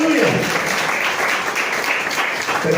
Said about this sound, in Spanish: Denle un aplauso al Señor esta mañana con todo su corazón.